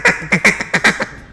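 A cut-down duck call blown with a cutting technique gives about six short, sharp quacks in quick, choppy succession, loud and close, with no voices over them.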